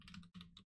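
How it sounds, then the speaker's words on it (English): Rapid clacking keystrokes on a mechanical computer keyboard, two quick bursts of typing separated by a brief pause, close and fairly loud, with no talking. "Listen to my awesome mechanical keyboard."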